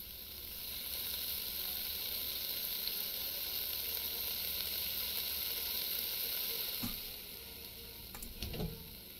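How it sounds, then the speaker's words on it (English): Onion and pork fry in a pan in the video game Cooking Simulator, giving a steady, loud sizzle that runs unbroken for several seconds before easing off, followed by a few brief clatters near the end. "And the onion, again, is cooking so quickly."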